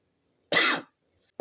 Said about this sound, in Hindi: सॉरी वो खांसी आ रही थी।